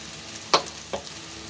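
A spice mixture stirred in a frying pan makes two brief, faint scraping clacks of a spoon against the pan over a quiet, low sizzle.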